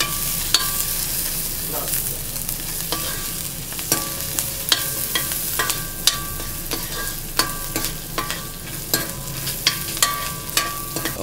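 Onion, garlic and ginger frying in a pan make a loud, continuous sizzle. Frequent metallic clinks and scrapes of a stirring spoon repeat irregularly throughout, up close and with no voices.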